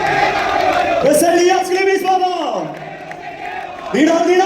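A crowd at a Malankara church gathering cheers and shouts with raised, chant-like voices as the Catholicos, Cardinal Moran Catholicos Baba, arrives. The sound is loud and close, with swelling and falling calls and a fresh burst near the end.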